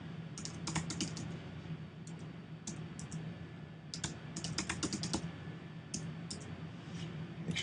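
A password is typed on a computer keyboard in quick bursts of close key clicks separated by short pauses, over a low steady room hum.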